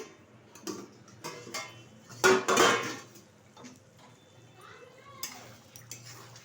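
A metal lid comes off a pot of slow-cooked goat fat, giving a bright clatter and ring near the middle, surrounded by faint clinks and ticks from the kitchen and a bit of quiet voice.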